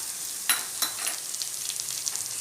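Onions, curry leaves and slit green chilies sauté in a pan for Tamil egg curry, a steady quiet sizzle with a couple of sharper crackles early on.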